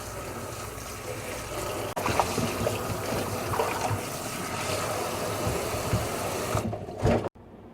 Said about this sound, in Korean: 무청 사이사이를 깨끗이 씻어줄게요.